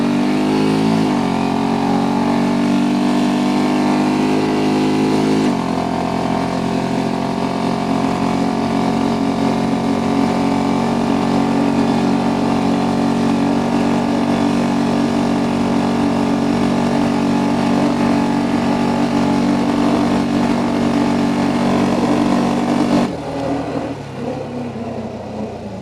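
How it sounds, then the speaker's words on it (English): 2025 Honda Rubicon 700 ATV engine on a top speed run along a dirt trail, revving up through gears then holding a loud sustained drone for over twenty seconds before easing off, close to the rider. "Now it's time for the top speed run here on the dirt, folks."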